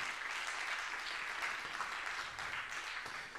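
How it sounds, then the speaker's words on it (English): Church congregation applauding with a steady, dense wash of hand clapping that lasts the whole moment and tapers slightly at the end. "Clap your hands real big."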